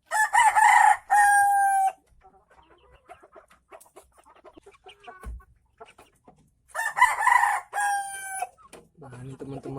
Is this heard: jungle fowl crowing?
yes